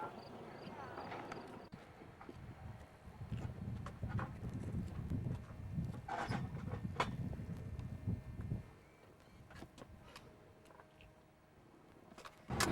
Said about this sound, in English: There's a bunch of horses crossing the road right in front of us.